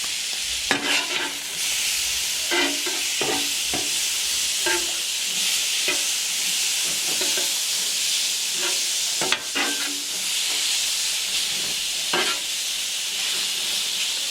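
Cubed ribeye seasoned with pepper and garlic powder sizzles loudly and steadily on a Blackstone griddle, with a constant hiss broken by repeated sharp scrapes and taps of a spatula mixing the meat.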